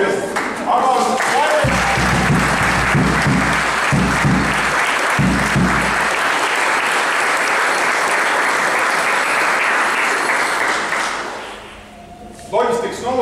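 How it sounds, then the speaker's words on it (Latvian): Audience applause after a folklore group performance, a loud sustained crowd of clapping hands that fills most of the stretch before fading, with brief speech at the start and end. "Aplausus."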